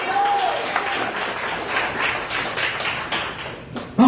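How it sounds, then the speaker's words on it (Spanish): A church congregation applauds during a Spanish-language service, a steady wash of clapping hands filling the room at moderate loudness, with a brief tone near the start and a sharp louder burst at the very end. "Un aplauso al Señor esta preciosa mañana"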